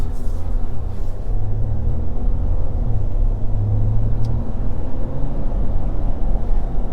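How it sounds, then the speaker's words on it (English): A 2022 Ram 1500 EcoDiesel pickup heard from the cab while driving, its diesel engine producing a steady, loud low rumble and drone that holds constant throughout, with no voices. "You get a little bit more of that kind of dieselish noise, which I do like."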